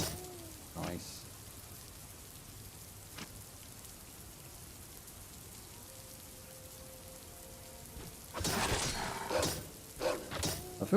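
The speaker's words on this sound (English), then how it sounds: "The rain is really loud" Steady rain falls in an online multiplayer video game, a constant hiss with scattered drop ticks, then louder thuds and knocks rise near the end.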